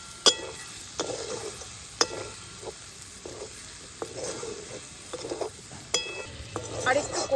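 Prawn and yam curry sautéing in a pan, with soft steady sizzling and repeated spatula scrapes and clinks against the pan, close by.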